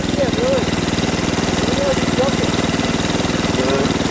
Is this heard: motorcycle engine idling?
yes